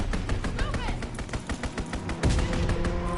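Call of Duty WW2 strafing-run gunfire: dense, rapid volleys of shots crackle loudly and continuously, mixed with thuds and impacts, while players talk over the barrage.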